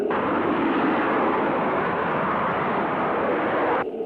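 A fixed-wing airplane's engines roar at high power during the takeoff roll, loud and steady from the cockpit, cutting off abruptly near the end.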